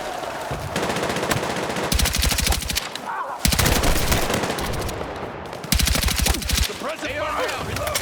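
Machine gun fire in Battlefield 6 during a night raid on a building: long, rapid bursts of automatic fire, loud and close, nearly continuous, with brief pauses and echoing impacts.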